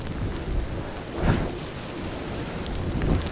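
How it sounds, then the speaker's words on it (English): Steady rain falls near a fast-flowing waterfall at Gayle, a dense broadband wash of drops and rushing water with a brief louder swell partway through, continuous and close with no voices. "because it's raining now"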